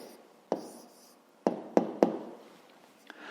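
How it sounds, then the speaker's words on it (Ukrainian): Pen on paper jotting down an answer to a math word problem, with several sharp scratchy strokes and taps spaced irregularly, close and quiet, no talking. "Гаразд, записуємо відповідь."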